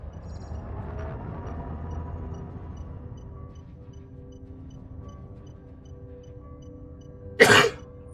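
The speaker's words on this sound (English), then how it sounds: "Apologies for the cough." A single short, loud cough bursts out near the end, close to the microphone, after a stretch of quiet indoor room tone with faint low hum.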